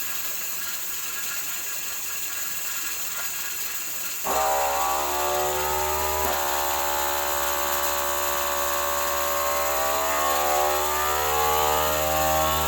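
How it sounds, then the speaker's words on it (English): A vacuum sealer pulling air from a bag of cubed butternut squash, a steady motor hum that jumps louder and higher about four seconds in, then holds a constant whirring drone with a slight pitch shift near six seconds. "I'll just do 1 bag of each just to show you how I'm gonna vacuum seal them."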